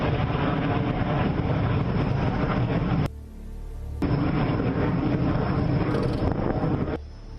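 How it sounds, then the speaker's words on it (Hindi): Aerobatic aircraft of the Surya Kiran jet team and Sarang helicopter team perform at the Aero India 2021 airshow in Bengaluru, making a loud, steady roar that cuts out abruptly for about a second midway before resuming. "एरो इंडिया में सारंग एरोबेटिक हेलीकॉप्टर टीम और सूर्य किरण टीम एक साथ डिस्प्ले कर रही थी।"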